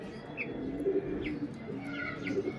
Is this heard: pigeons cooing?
yes